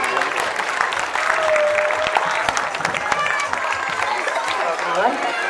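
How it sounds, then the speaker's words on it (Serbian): Sustained crowd applause for a secretary at a community kick-scooter event in Pljevlja, broad steady clapping with some cheering, filling the clip without pause and carrying a light murmur of voices. "veliki aplauz za sekretarku Milicu"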